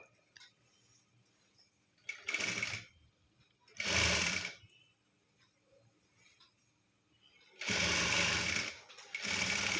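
A sewing machine stitching a shaped belt runs in short bursts of rapid whirring, three or four runs separated by quiet pauses, close and fairly loud.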